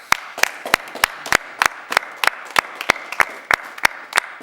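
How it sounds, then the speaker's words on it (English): Sparse clapping from a small audience at a NASA 2019 speedrun event, distinct sharp individual claps in an uneven rhythm rather than a full roar, fairly close. "Another clap, please."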